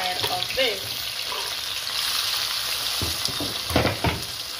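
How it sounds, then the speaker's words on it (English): Seasoning and onions sauté in a very hot pot with a constant loud sizzle and occasional stirring scrapes, heard close up and with no voice over it. "You guys are gonna just saute this for a few minutes until you know that your onions and everything is starting to turn color"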